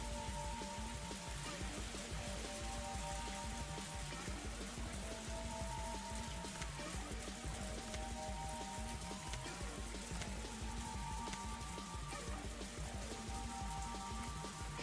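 Steady rain falls through a forest in the Higurashi visual novel, a dense continuous hiss with soft droplet patter, constant and fairly loud throughout with a faint low tonal hum underneath.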